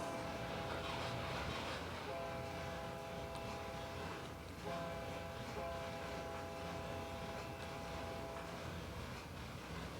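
A train in a railway operations video game runs downhill, with a continuous loud rumble of wheels on rails and repeated sustained horn tones sounding across the middle of the run.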